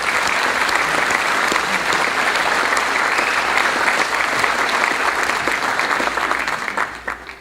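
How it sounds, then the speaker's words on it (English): A music association hall of fame audience gives the committee a full round of applause, sustained dense clapping that holds steady and then tapers off in the last second. "let's give a round of applause for the guys in the committee here"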